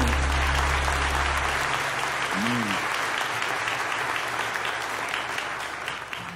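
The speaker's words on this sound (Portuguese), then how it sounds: "pode aplaudir porque Ele é bom." A congregation claps loudly and continuously during a church inauguration service, a dense, steady wash of applause with a brief voice and low hum underneath in the first moments.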